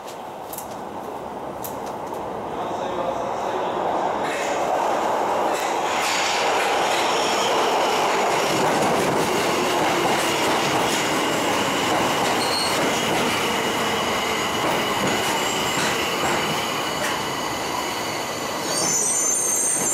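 A Tokyo Metro Ginza Line 1000 series train bound for Shibuya pulls into Ginza station platform with see-through platform doors, wheels squealing and rumbling loudly for most of the span before easing off at the end.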